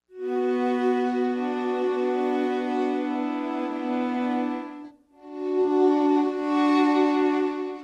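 Sustained sampled viola and violin tones swell and fade together in a smooth legato texture, one long held chord giving way to another after a brief dip.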